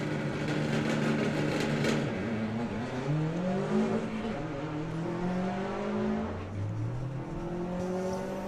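Two drag race cars, a Subaru Forester and a little Alfa Mito, run side by side at a summer nationals meet, their engines droning and rising through gear changes, loud and steady throughout with crowd-level track noise.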